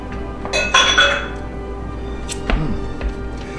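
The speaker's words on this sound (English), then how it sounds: "Stir that in." A utensil clinks and scrapes against a cooking pot as turkey stroganoff is stirred, with a few bright metallic knocks over a low steady background hum.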